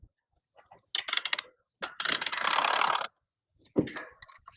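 Ratchet and pawl clicks come in quick bursts as a hog trap door is cranked back up, the rapid metallic clatter near and fairly loud with short pauses between strokes.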